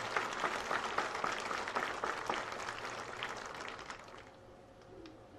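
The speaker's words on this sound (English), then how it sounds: "If we can give them one more round of applause." An audience at a 2023 high school graduation applauds the maintenance staff, a fairly faint, spread-out crowd of clapping that gradually thins and fades toward the end.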